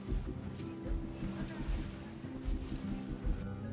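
A boat runs from Port Blair to Ross Island in the Andaman Islands, with a steady motor rumble and wind buffeting the microphone and water washing past, continuous and moderately loud throughout.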